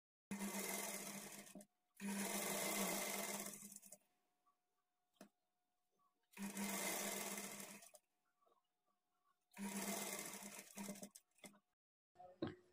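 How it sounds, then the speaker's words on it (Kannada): A sewing machine runs a double stitch along a blouse in four loud, close bursts of fast stitching, separated by short pauses and a few small clicks. "ಈಗ ಇದನ್ನು ತಿರುಗಿಸ್ಕೊಂಡು ಇದ್ರ ಮೇಲೇನೆ ಡಬಲ್ ಸ್ಟಿಚ್ ಹಾಕ್ಕೊಳ್ತಾ ಬರಬೇಕು"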